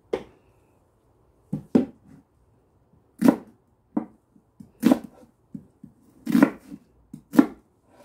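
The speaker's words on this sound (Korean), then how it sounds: "양파 10개 자르는 것도 시간이 좀" A knife chops onions on a cutting board in irregular bursts of sharp taps, close and clear, with pauses between strokes and no talking.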